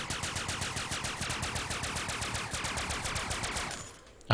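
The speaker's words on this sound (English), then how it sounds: "the sound of the weapons when they get low on ammo" Rapid automatic gunfire from a sci-fi weapon in the game Edge of Space, its low-ammo warning sound playing, a dense loud stream of close shots running steadily for about four seconds before cutting off.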